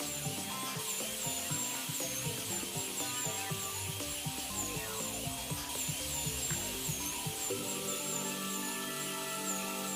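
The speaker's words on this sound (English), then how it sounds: "I recommend keeping the burr parallel to the tooth" A dental burr drills an anterior tooth to reduce it for a zirconia crown, giving a continuous high-pitched whine that runs steadily throughout, close and moderately loud.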